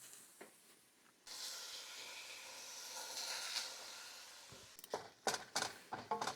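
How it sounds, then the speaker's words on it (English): Ground beef hits a hot pan and browns for a weekend ragu with a steady broad sizzling hiss, loud and continuous, then breaks into irregular crackles and bumps as the meat is broken up, with no talk. "add our ground beef into the pan"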